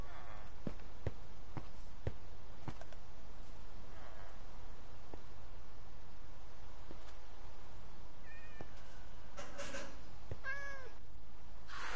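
Short electronic cat meows and chirpy game tones from Minecraft pop up over a steady low hum, scattered clicks and tapping in between.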